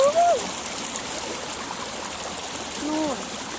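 Heavy, muddy stream water rushes steadily in a continuous broadband roar, with faint voices and bird-like chirps drifting over the flow.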